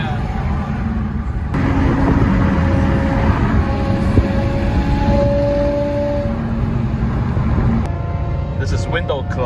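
Mercedes S600 with a loud F1 exhaust heard from inside the cabin: a steady heavy engine and exhaust drone with a rising whine partway through, loud and continuous.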